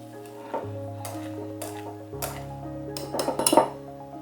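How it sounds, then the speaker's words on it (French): A whisk beats cream into crème diplomate while the bowl is turned, producing close, irregular clinks and scrapes against the bowl that grow busier and louder near the end. "Je fouette du milieu vers l'extérieur en tournant mon récipient."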